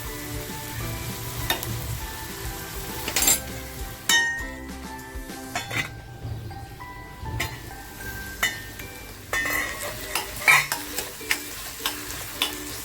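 Onion garlic chutney cooks over a low gas flame, giving a soft steady sizzle with repeated stirring scrapes and occasional metallic clinks of a spoon against the pan.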